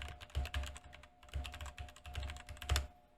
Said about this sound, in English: I'm gonna type on my keyboard with red switches.